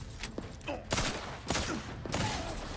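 Repeated gunfire in The Outer Worlds 2 video game: several sharp broadband shots crack out at irregular intervals over a busy, noisy backdrop of combat clutter, with faint speech-like sounds mixed in.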